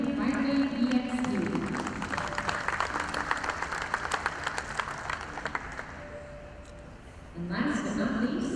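Crowd applause at a dairy cattle show honoring a returning junior champion heifer, Hardcore Premium Firebird EXP, steady clapping in a large arena with voices and a loudspeaker announcer over it, easing briefly before talk resumes.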